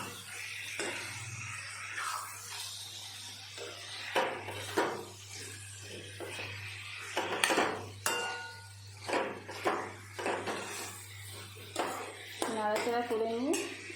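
Chicken curry with potatoes and liver being stirred in a pot, repeated scraping and clinking of a metal spoon against the pan under a low steady hum, with a voice talking at times.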